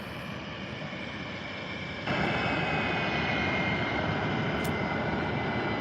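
A jet airliner's engines run up at Tampa International Airport, a steady, loud roar that surges even louder partway through and then holds at full power.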